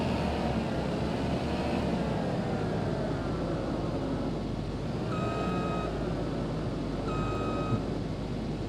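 Reversing beeps from a farm vehicle in a farming video game, backing up to hitch a trailer to a combine, sound twice over a steady, loud engine drone, with no talk.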